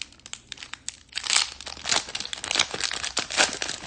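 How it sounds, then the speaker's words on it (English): A Disney Lorcana card booster pack being ripped open, close crinkling and tearing of the foil wrapper in quick irregular bursts that grow louder midway, no voices. "Love the ripping of the paper. Sounds so good."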